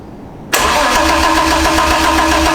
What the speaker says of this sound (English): Now crank it a little bit.